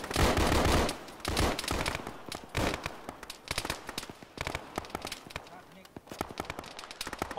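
Automatic gunfire crackles through an ArmA video game firefight among trees, with dense bursts and scattered single shots continuing throughout while voices speak over the shooting.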